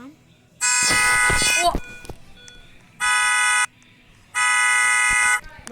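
A Kia Sportage X-Line car alarm blares in three long, loud electronic bursts separated by short pauses, close to the microphone, with a brief exclamation from a person under the first burst.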